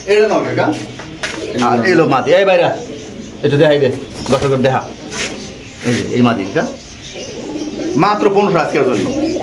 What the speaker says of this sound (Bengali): তো দর্শক এখানে আছে লাহোরি কবুতর